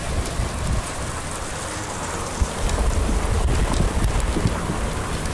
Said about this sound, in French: on est relativement au début de la pluie, donc peut-être ça peut passer encore